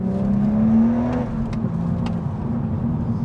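A BMW 135i engine hums steadily from inside the cabin, a low drone that rises slightly then settles, with a few faint clicks over it.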